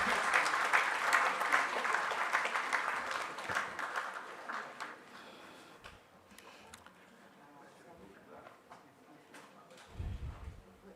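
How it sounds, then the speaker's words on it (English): An audience at a parliamentary inauguration ceremony claps for a speaker. The applause starts dense and fairly loud, thins into scattered claps, and fades out, followed by a brief low thump near the end. "clapping for the speaker."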